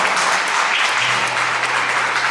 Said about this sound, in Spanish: Denle un fuerte aplauso de la familia.